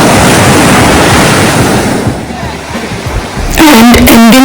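Ocean surf washing onto a beach on Sri Lanka's south coast near Mirissa, a loud steady broadband roar with wind noise, interrupted at the end by a brief tonal voice or sound over the surf.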